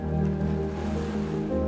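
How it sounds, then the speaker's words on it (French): Ocean waves wash steadily beside a yoga resort in Bali, Indonesia, a continuous broad roar of surf with a low droning hum running underneath, and no voices. "vous aurez toujours les vagues de l'océan en bruit de fond"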